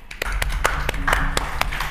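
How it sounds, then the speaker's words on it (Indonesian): A small studio group claps for a podcast guest, a brief flurry of sharp, irregular hand claps, close and steady for a couple of seconds. "Tepuk tangan dulu dong untuk Aya."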